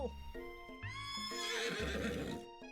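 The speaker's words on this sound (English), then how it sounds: "your sudden movement surprised the horse and it reels up, kicking you directly in the face" A horse in a dating sim video game rears and neighs, giving a long, loud whinny that rises and trembles over layered music tones, with a few hoof clops.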